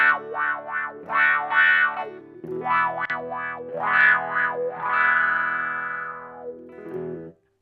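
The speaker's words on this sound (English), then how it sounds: "So now I'll go to the full Q setting and you can hear what it's like at its brightest." An electric guitar with some gain plays through a Dunlop 535Q wah pedal at its maximum Q setting, giving loud, bright, vocal sweeping tones in a series of rising and falling phrases.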